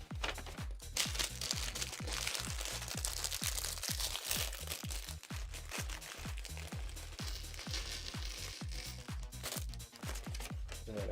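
A plastic bag full of LEGO pieces crinkles and rustles close by, with a continuous stream of sharp crackles and crunches as the bag is handled.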